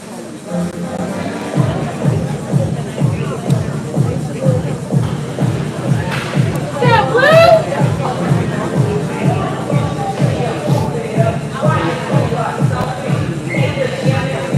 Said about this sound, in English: Good crowd on hand here at the Pineville Ice Palace today.